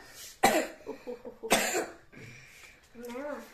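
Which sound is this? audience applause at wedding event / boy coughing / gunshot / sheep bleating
boy coughing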